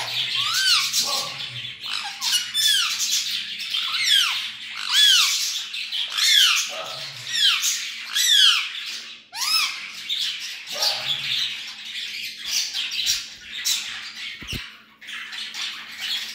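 A peacock calls repeatedly from close by, loud squawking cries in uneven bursts with short gaps, some calls rising and falling sharply, a faint low hum underneath and no talk.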